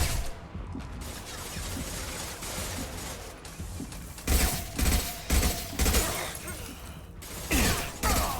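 Gunfire in the video game Mass Effect 2 during the Battle of Horizon, mechanical clatter building to loud, punchy bursts of shots in quick succession over the second half.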